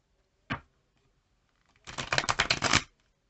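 One quick riffle of tarot cards, a pause, then a longer flurry of close, crisp card shuffling lasting about a second.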